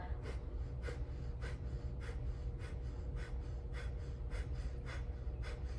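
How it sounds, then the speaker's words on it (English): Rhythmic sharp breaths pushed out through the nose during a breathwork exercise, about a dozen quick forceful exhales evenly spaced over a steady low background hum, close and clear with no talking. "just start breathing out of your nose"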